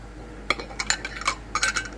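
Metal canning lids set onto glass jars packed with hot dogs, giving a handful of short, bright clinks and taps spread across a couple of seconds, close and moderately loud.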